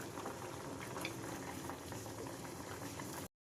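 Noodles with a poached egg, spicy masala and a little soy sauce bubbling steadily in a pan, a continuous close simmering hiss with small pops throughout.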